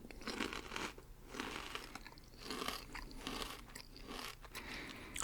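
Crunchy chips are eaten close to the microphone in an intimate ASMR setting. Dense, crisp crunches and chewing repeat steadily and quietly, with no talking.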